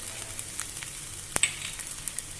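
Sprouted mung beans with ginger-garlic paste and turmeric cook in a pan, a soft, crackling sizzle with light irregular ticks and one sharp tap of a spoon on the pan.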